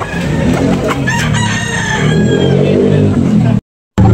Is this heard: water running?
no